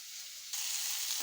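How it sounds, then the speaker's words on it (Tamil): Bitter gourd sizzles with salt in a clay pot, a steady, fairly loud frying hiss that swells a little partway through and plays alone without talk. "பாவக்காய் உப்பு போட்டதுனால இது எல்லாமே வதங்க ஆரம்பிச்சிருச்சு"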